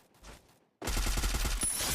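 Rapid automatic gunfire bursts out in the video game Free Fire after a brief quiet lead-in, a loud, dense volley of shots lasting over a second.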